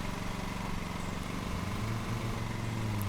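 A lawn mower in a video game drones steadily as it cuts grass, a rough low engine rumble with slight pitch wavers, continuous and fairly close, no talk.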